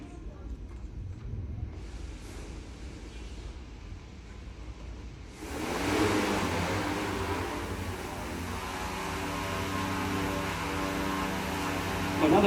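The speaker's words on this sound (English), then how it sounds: "When now the blades spin faster, the drone climbs, like this." A drone's propellers spin during a flight demonstration at a science centre, a whirring hum that jumps sharply louder and brighter midway as the blades speed up and the drone climbs, then holds a steady tonal drone.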